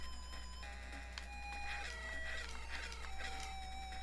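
Retro video game chicken sounds from Panic Restaurant as an enemy fires chickens at the player: synthesized clucks and crowing squawks over steady chiptune tones and a constant low hum, continuous for a few seconds with no talking.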